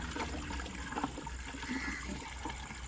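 Water runs steadily into freshly cleaned, empty cattle drinking troughs on a farm, a continuous close trickling and splashing flow with no talking over it.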